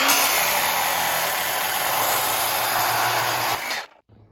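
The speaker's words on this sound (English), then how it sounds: "We're gonna cut a 6-degree slot right into it right now" Metal slot being cut into a steel sleeve piece for a car build with a power tool, a loud steady whining grind held for about three and a half seconds before stopping abruptly, no talk.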